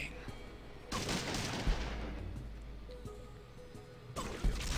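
Gunfire from the video game Fallout 2 comes in two short bursts, a first volley near the start and another near the end, with quiet game ambience between them.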